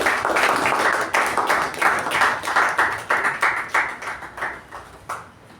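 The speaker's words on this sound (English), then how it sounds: "let's welcome our Vice President Public Relations for the day, Toastmaster Sindhushree, with a huge round of applause" Applause at a Toastmasters club meeting welcoming a speaker, a small group clapping in distinct uneven bursts that thin out into a few separate claps at the end.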